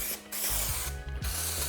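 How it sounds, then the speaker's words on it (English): Aerosol spray adhesive hissing onto carpet and plywood lining in a van conversion, two close, steady bursts broken by a short pause. "I'm going to spray"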